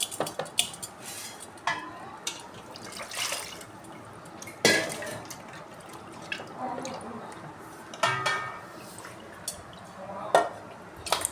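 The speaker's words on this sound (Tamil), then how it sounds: "1க்கு 2 வாட்டி தண்ணி ஊற்றி நல்லா அலசிக்கோங்க" Water splashes and drips in a metal bowl while goat head meat is rinsed and swished around, with scattered clinks of dishes at an irregular pace.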